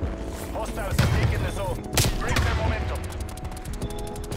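XM4 assault rifle fire in Black Ops Cold War, with sharp bursts and single shots cracking over an intermittent rapid rattle of automatic fire, loud and close, with players talking over it.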